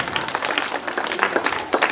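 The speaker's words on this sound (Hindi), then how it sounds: "जोरदार तालियां।" Scattered, moderately faint clapping from an audience at a school prize-giving ceremony, a short burst of applause with a few voices mixed in.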